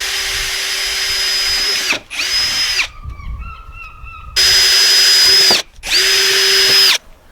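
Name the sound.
power drill drilling holes in wood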